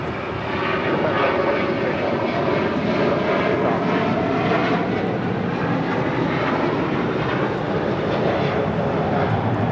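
A Boeing 747 cargo jet lands on runway 25 left at LAX, its engines a loud, continuous roar with a slowly sweeping whine, steady throughout and heard alone without talk.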